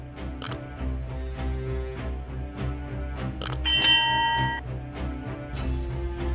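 A bell-like notification sound effect rings out with a bright, shimmering chime, accompanied by a couple of sharp camera-shutter clicks over a steady low musical bed.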